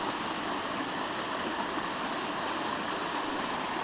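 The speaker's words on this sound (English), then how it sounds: "Here's a nice, beautiful little mountain stream." Steady rushing and babbling of flowing water from a small stream, continuous and close, with no voices.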